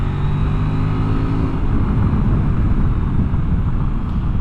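Kove 800X Pro adventure motorcycle ridden fast, a loud continuous engine drone with a rising pitch at first, smoothing into a rushing engine and wind roar throughout without talk.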